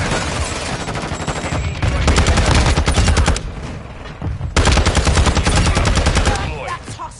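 Rapid automatic gunfire in Modern Warfare 2, loud sustained bursts of shots with a brief lull in the middle, close and dominant, with a voice faintly underneath.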